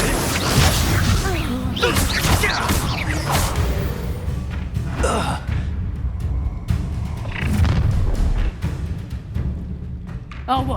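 An Incendio fire spell is cast during combat in the video game Hogwarts Legacy, a dense mix of whooshing bursts, crashes and thuds under spoken voices.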